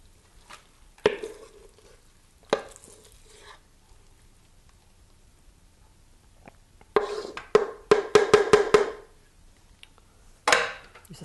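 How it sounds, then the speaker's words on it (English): Rubber spatula scraping the last cake batter from a mixing bowl into a springform pan, short bursts of scraping and tapping against the bowl separated by quiet pauses, close and clear. "Use a spatula to get the last little bit out of the bowl."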